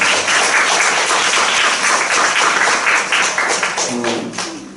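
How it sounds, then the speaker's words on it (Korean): A church congregation breaks into loud, dense applause, a continuous patter of many hands close by that holds steady and then tapers off near the end. "우리 하나님께 영광 박수 드리고"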